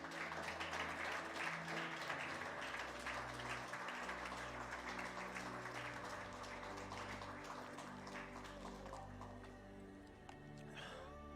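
A church congregation claps for Jesus during a sermon, a soft, fairly distant wash of applause over sustained low musical chords from instruments playing underneath, gradually easing in intensity.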